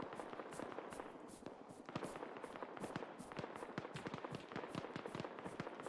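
Distant gunfire from an Arma 3 battle with RHS/BAF mods rattles in a steady stream of sharp crackling pops, quite dense and continuous, heard alone with no voices.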